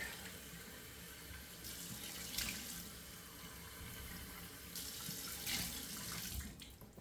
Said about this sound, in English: So chilling down the water in the sink.